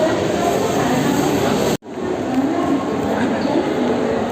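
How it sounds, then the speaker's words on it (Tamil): Loud, constant rumble of trains and crowd noise at Andheri railway station in Mumbai, with people talking, briefly dropping out for a moment before resuming. "மும்பை அந்தேரி ரயில்வே ஸ்டேஷன்லேருந்து இதை பதிவு பண்ணுறேன்."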